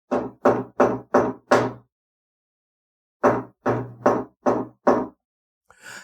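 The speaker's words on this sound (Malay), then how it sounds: "bunyi dia ni macam kita ketuk pintu" Five quick knocks on a door, a pause of over a second, then another run of five knocks, each a crisp, close, solid rap with near silence between.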